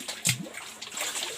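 Water splashes and sloshes briefly as it is scooped from a deep well, a quick scoop near the start followed by softer trickling.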